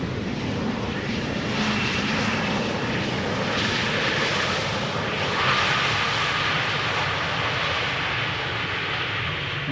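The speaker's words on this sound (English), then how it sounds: "That is the 737." A Boeing 737 airliner roars steadily on arrival at Amsterdam Schiphol Airport, its engine noise a broad, sustained rumble that swells slightly in the middle of the pass and stays loud throughout.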